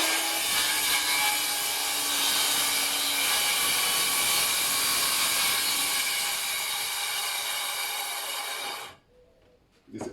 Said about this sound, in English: I'm going to use the saw